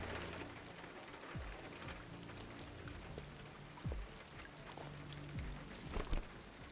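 Steady rain pours down in the video game Detroit: Become Human in a continuous wash, with scattered heavier drops and splashes, no voices present.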